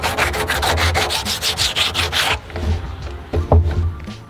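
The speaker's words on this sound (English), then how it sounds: "Some heavy grit sandpaper, and then just" Heavy-grit sandpaper rubs rhythmically over a blue 55-gallon plastic barrel, a loud rasping scrape repeated in quick strokes, then slower scuffs and a few knocks.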